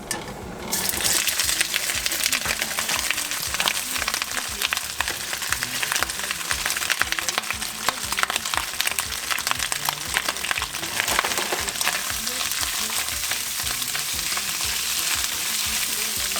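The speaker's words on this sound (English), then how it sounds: "I'm gonna fry the meat" Meat frying in oil, with a loud, steady sizzle that carries on throughout, joined by occasional clinks and stirring noises close by.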